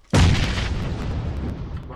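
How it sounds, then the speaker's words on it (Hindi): Grenades going off in PUBG Mobile: a sudden loud blast with a deep low thump, then a long rumbling decay that fills the rest of the clip, close and heavy. "बाहर ही गिर रहे हैं यार ग्रेनेड"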